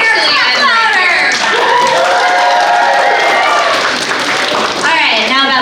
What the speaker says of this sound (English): Molly's here, clap louder.